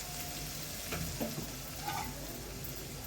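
Chicken curry with tomato and turmeric sizzling and frying in a pan, a steady close crackle with a few soft stirring scrapes and no voices.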